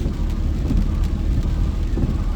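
Heavy rain falls during a summer storm on Highway 38 near Angelus Oaks, heard from a moving vehicle. The result is a dense, steady wash of noise with low rumble and scattered drop ticks, loud and continuous with no talking.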